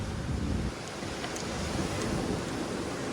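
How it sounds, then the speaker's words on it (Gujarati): Sea waves roll onto Jhanjhmer beach in a steady broadband wash, with gusts of wind buffeting the microphone throughout and no voices. "મસ્ત મજાનો દરિયો."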